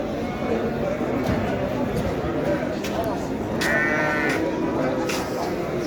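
Sheep bleat repeatedly amid a noisy Turkish livestock market crowd selling sacrificial animals, with people talking and constant background chatter.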